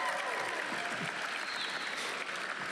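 Sustained applause from a crowd, a dense steady patter of many hands clapping at even loudness throughout.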